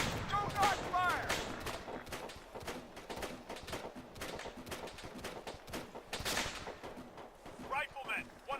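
Heavy gunfire in the military shooter ARMA 3, dense rapid cracks and bursts, loud and continuous throughout, with radio-style voices calling out over the shooting.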